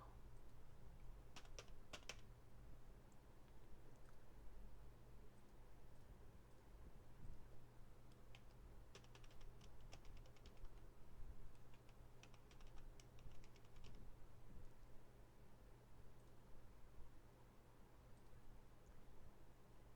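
Password typed on a computer keyboard, heard as faint clicky keystrokes in short bursts over a low steady hum.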